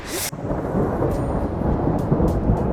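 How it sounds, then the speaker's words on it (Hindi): Mountain storm in the Pahadi hills with hail and strong wind: a brief sharp burst opens, then a loud, steady, close roar of wind and falling precipitation runs unbroken with no voices. "भाई तूफान चल रहा है, तूफान।"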